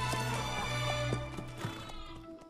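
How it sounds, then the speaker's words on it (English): A white horse in Metal Gear Solid 5: The Phantom Pain, with clip-clopping hooves and a short whinny over steady game background sound, fairly close. "I got me a horse like the boss."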